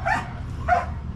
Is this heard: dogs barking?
yes